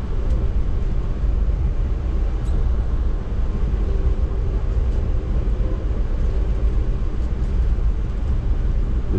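Amtrak Silver Star passenger train running, a continuous loud rumble and rush of travel noise with faint rattles, steady throughout with no voices.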